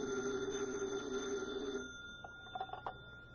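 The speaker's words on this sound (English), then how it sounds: "his phone rings" An old-fashioned telephone bell rings in an old time radio drama, a sustained ring that cuts off partway, followed by quiet handling clicks as it is picked up.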